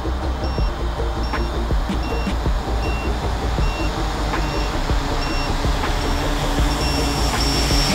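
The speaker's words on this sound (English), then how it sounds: "that's my voltage alarm" Repeated high electronic beeps of a low-voltage alarm sound at a steady interval over the constant whirring motor drone of an 8-rotor FPV cinema drone.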